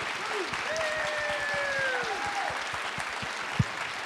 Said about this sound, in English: Big round of applause for Val, everybody